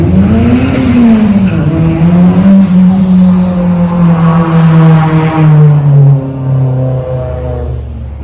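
Lamborghini sports car at a car meet, its engine held in a loud, droning rev close by that rises slightly then slowly settles and fades over several seconds.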